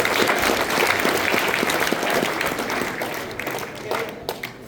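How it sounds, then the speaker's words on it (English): An audience at a camp talk claps in a dense burst of applause that gradually thins and fades, with a few scattered claps near the end. "Clap away."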